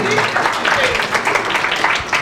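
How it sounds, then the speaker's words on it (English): An audience at a live chef cooking demonstration gives a round of applause, a dense, even clatter of many hands, with voices audible over it. "Big round of applause"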